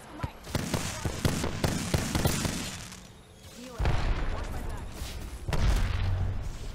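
Gunfire in the online shooter Apex Legends, a rapid burst of sharp cracking shots for a couple of seconds, followed by heavier booming blasts and rumbling explosions.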